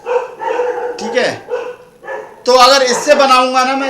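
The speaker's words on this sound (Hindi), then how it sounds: "बाहर कुत्ते भौंक रहे हैं" Dogs bark outdoors, somewhat muffled behind someone speaking Hindi close to the microphone, with the barking most prominent toward the end.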